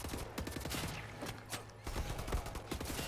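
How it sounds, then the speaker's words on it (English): Dense rapid gunfire crackles through the video game Wolfenstein The New Order, a continuous fusillade of overlapping shots with brief lulls, loud and close. "the shooting is actually really fun"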